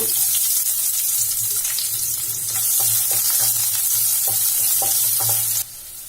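Chopped onion dropped into hot oil with popped mustard seeds, cooking for an idli-batter evening snack: a loud, close, continuous frying hiss with stirring scrapes, which thins noticeably near the end.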